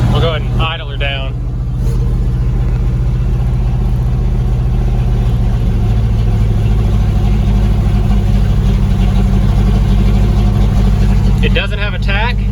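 The engine of a 1966 Ford fire truck idles with the hood open, a loud, steady low rumble filling the whole span, with a voice briefly heard over it near the start and again at the end.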